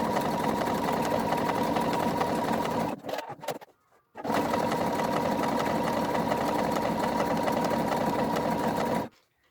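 A home sewing machine quilts a travel slipper sole with a loud, even buzzing run, a brief stop-and-start in the middle, then resumes until it cuts off near the end.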